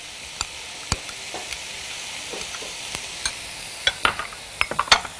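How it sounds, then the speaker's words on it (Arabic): Minced garlic, onion and colored bell peppers sauté in a pan with salt and pepper, a steady sizzle broken by sharp clicks and scrapes of a stirring utensil that grow busier toward the end. "الثوم المفروم، البصل، شوحتهم كويس مع ملح وفلفل، بعدين حطيت الفلفل الالوان."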